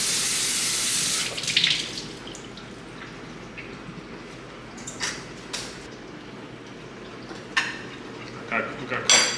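Tap water runs into a kitchen sink while salted mackerel is rinsed, a steady hiss of flowing water that stops, followed by soft clinks and handling sounds of dishes and utensils.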